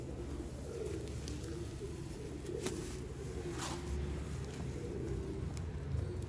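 Soft, low coos from Sialkoti pigeons repeat in a muffled rolling rhythm over a constant background hum, with a few faint clicks scattered throughout.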